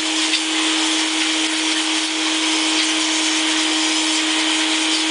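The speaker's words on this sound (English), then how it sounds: "So as you can see, as I'm sanding," Steady broadband whir of a dustless drywall sander attached to a vacuum, grinding against drywall with a constant vacuum hum and scraping texture throughout, loud and close with no talking.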